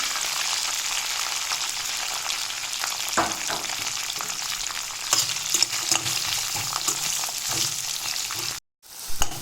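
Steady, close sizzling of finely chopped onion frying in hot oil, with occasional stirring clatter and a brief silent gap near the end.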